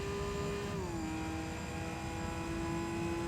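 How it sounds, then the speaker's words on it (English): Car transmission whine in Gran Turismo 3 during reverse gear shifting, a steady high tone that drops in pitch once and then holds, loud and continuous with engine drone beneath and no talking. "Reverse shifting with this kind of makes it sound like the DCT GTRs from the GTR concept cars transmission from GT Concept."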